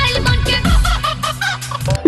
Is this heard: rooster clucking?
yes